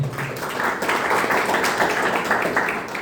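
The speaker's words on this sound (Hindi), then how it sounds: "तो मैं चाहूंगा कि सभी डिग्रीधारक डॉक्टर साहब लोगों के लिए अब तक की जोरदार और जबरदस्त तालियां होनी चाहिए।" Audience at a health awareness program in Sagar applauding doctors, dense clapping from a crowd that stays steady and fairly close for about three seconds.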